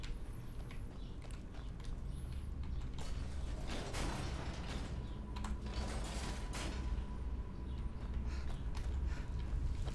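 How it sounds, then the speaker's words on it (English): Stone door mechanisms grinding and creaking open in the video game Skyrim, a continuous mechanical rumble with ratcheting clicks and scraping bursts throughout, fairly loud and with no talk. "Oh, that opened all 3 doors."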